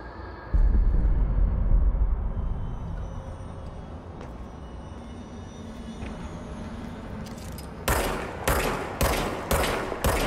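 Video game gunfire with a loud opening shot and fading rumble, then a run of five sharp, evenly spaced shots near the end.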